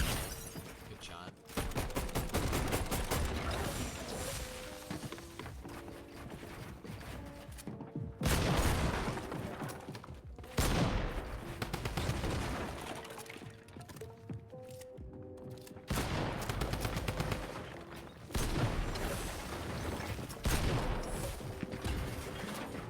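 Rapid bursts of video game gunfire crackle through a battle royale building fight, with loud volleys and sharp impacts repeating across the stretch amid dense in-game clatter.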